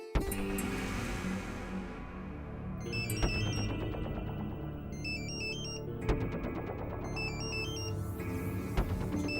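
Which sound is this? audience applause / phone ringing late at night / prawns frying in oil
phone ringing late at night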